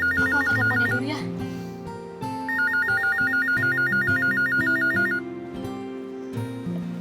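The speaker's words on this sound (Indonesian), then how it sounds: "Aku angkat teleponnya dulu ya." A telephone rings in a domestic drama scene, its repeating electronic trill sounding in two long bursts over a music score, loud and close.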